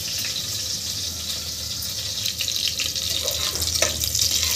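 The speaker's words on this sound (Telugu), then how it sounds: "ఇంకా పప్పు అయితే నానబెట్టాను కదా, ఇదైతే మంచిగా కడిగి పెట్టుకోవాలి" Soaked chana dal washed under a running tap, a steady broadband rush of water with some faint splashing and clinks from the bowl, close and continuous with no talk.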